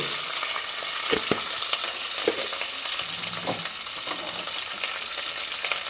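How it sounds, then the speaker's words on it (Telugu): Curry leaves and cumin seeds crackle and sizzle in hot oil for an egg curry, a steady close frying hiss broken by sharp pops and spatters, with a utensil stirring now and then. "ముందుగా నేను కరివేపాకు వేస్తున్నానమ్మా దీంట్లో వేస్తున్నానండి అలాగే కొంచెం జీలకర్ర వేసుకుంటున్నాను"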